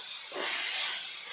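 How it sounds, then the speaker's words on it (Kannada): Tomato masala fries in a thick pan, a steady loud sizzle and hiss that swells briefly and then holds evenly, with no talking. "ಈಗ ಇದನ್ನು ಮಿಕ್ಸ್ ಮಾಡಿಕೊಂಡು ಫ್ರೈ ಆಗಬೇಕದು."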